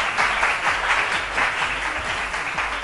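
A television studio audience on a morning talk show breaks into sustained applause, thick rhythmic clapping from many hands, close and even in level from start to finish.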